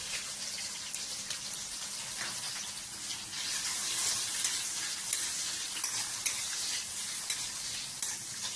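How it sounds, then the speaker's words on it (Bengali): Cashews, almonds and raisins frying in ghee give a steady, moderately loud sizzle with soft stirring scrapes that swell slightly midway, with no voices. "আমি ঘিতে এই ড্রাই ফ্রুটগুলো সব আমার ভাজা হয়ে গেছে।"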